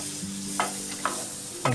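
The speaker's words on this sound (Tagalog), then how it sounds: "lagyan natin ng konting butter ang ating kawali" About 30 grams of butter melts in a frying pan with a soft sizzle, broken by three brief scraping stir sounds close by.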